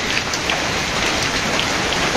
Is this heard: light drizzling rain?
yes